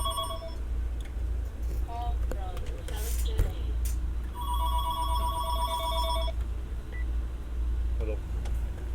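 A telephone rings in repeated electronic trills, moderately loud, heard inside a moving vehicle over a steady low road rumble during a drive from Owyhee Reservoir toward Bear, Idaho.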